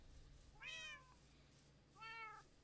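Cats in Minecraft on the EdenSMP server give two separate, faint meows about a second apart against quiet background noise.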